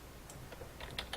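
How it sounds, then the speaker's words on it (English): A score is typed on a computer keyboard as a short burst of soft, close key clicks, a few quick taps bunched near the end over a quiet room. "And we're going to type in our score."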